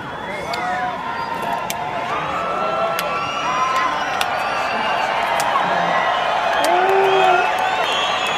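Large stadium crowd cheering and whooping after Sohyang from South Korea sings the US national anthem, a dense steady roar with scattered shouts and whistles that builds slightly toward the end.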